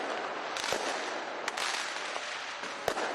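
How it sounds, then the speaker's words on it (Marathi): New Year fireworks at the Auckland tower in New Zealand: a dense, distant crackle and rumble with a few sharper bangs rising out of it, no voices. "न्यूझीलंडच्या ऑकलंड टॉवर इकडची ही फटाक्यांची आकर्षण"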